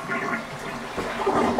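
A toilet in a rental property flushes in a continuous rushing gurgle of water, close and fairly loud throughout, with no speech.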